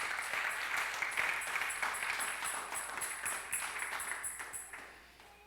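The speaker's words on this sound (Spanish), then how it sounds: "Dale un aplauso fuerte al Señor." A church congregation at a Sunday service breaks into strong applause, a dense wash of clapping that thins and fades toward the end with a few last scattered claps.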